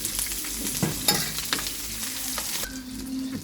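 Onion, green chilli and curry leaves frying with popped mustard seeds in hot oil: a close, crackling sizzle with scraping stirs and a few sharp knocks, with no voices.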